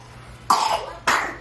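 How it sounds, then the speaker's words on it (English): A child with suspected RSV gives two sharp, close coughs about half a second apart, each trailing off with a raspy, wet edge. "Yeah, that's the cough."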